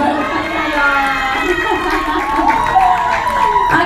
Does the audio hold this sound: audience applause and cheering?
yes